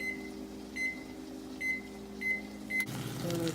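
A microwave oven hums steadily at close range while it heats food, with several short, evenly spaced beeps, followed by a clunk and a change in tone as it stops.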